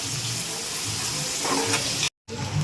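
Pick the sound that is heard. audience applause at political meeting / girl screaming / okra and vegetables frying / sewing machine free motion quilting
okra and vegetables frying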